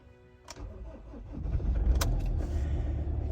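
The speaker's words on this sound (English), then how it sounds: "I'll switch engine on." A car engine cranks and catches, with a brief starter burst followed by a steady, loud idle rumble close by, no talk over it.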